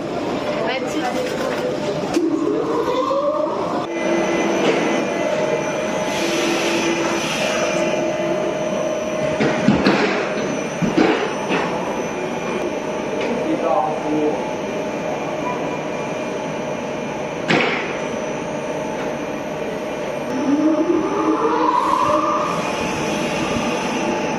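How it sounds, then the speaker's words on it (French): Train departing at night, with a continuous rolling rumble, rising and falling wheel squeals, and a few clanks and thumps as the cars gather speed over about twenty-four seconds. "Nous allons enregistrer le départ de notre rame."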